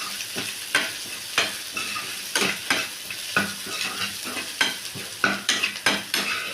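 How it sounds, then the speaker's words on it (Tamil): Spleen sautéed with salt in a pan sizzles steadily while a spoon stirs it, producing repeated close scraping strokes in an irregular rhythm over the constant frying hiss, with no voices. "நல்லா உப்பெல்லாம் சொதரட்டும் நல்லா வணக்கிட்டுக்கலாம்"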